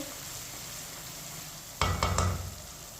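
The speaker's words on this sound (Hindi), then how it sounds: "2 मिनट के लिए मैंने चम्मच चलाते हुए टमाटर को पका लिया है।" Tomatoes cook in a pan, a low steady sizzle, then a spoon stirs with a few sharp scrapes and knocks partway through.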